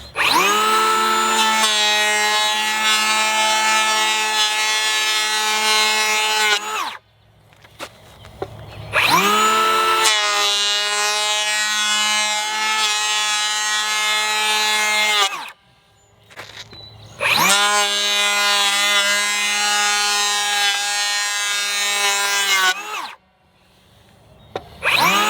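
A Ridgid Octane 18V cordless 3.25-inch hand planer makes three loud, sustained passes over rough sawn cedar, each a high whining cut lasting several seconds, separated by brief pauses with quieter motor hum.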